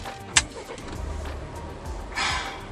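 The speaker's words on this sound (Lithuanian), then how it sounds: "Štai automobilio užvedimas, tokia pasukama svirtelė." A 2019 Volvo XC90 with a 250-horsepower petrol engine is started by turning a rotary switch: a sharp click, then a low, quiet engine rumble that settles into a soft idle.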